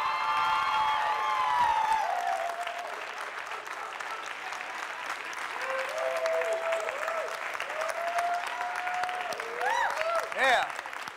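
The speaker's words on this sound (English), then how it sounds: "Give yourselves a round of applause." Applause from an audience at a leadership talk on a college campus rolls on as a continuous wash of clapping, with whoops and excited voices rising over it, strongest toward the end.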